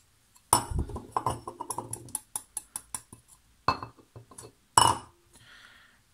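Series of sharp metallic taps on the heavy can of a Sierra 18-7896 marine oil filter, irregular rhythm with ringing decays, close and clear, no talking.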